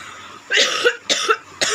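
Three harsh coughs in quick succession, close to the listener and fairly loud, each a short rough burst with brief pauses between.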